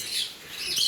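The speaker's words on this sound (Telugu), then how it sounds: "ఒక బర్డ్" Small bird chirping outdoors in a park at Mannar, a few faint high tweets in a quiet setting with no voices.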